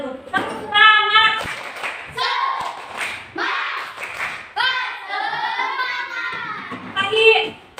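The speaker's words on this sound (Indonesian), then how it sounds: "coba ibu minta tepuk semangatnya dulu. Tepuk semangat." Fifth-grade schoolchildren in an Indonesian classroom do a rhythmic spirit clap, their hand claps and thumps mixed with loud chanted voices in a lively, patterned burst that lasts several seconds.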